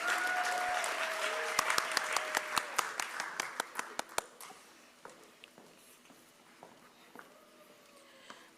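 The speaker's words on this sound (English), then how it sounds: "Let's give one more round of applause for all of these amazing students." Audience applause at a college graduation ceremony, a dense wash of clapping with individual sharp claps standing out, fading to scattered claps and quiet murmur toward the end.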